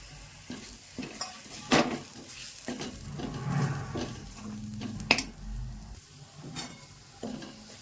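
Spices frying in a pan for dhaba-style paneer masala, a soft sizzle punctuated by repeated scraping and stirring strokes of a spoon against the pan, close up and fairly quiet.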